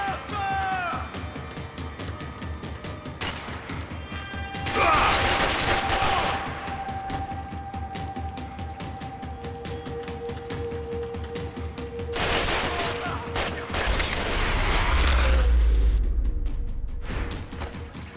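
Gunfire in the video game Max Payne 3, repeated bursts and blasts, loud and close, scattered through a tense scene over music, with voices shouting amid the shooting.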